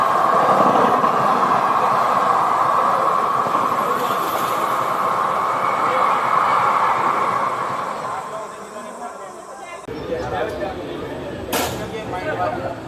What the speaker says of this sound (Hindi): तो अपनी ट्रेन पहुंच चुकी है राजपुरा जंक्शन।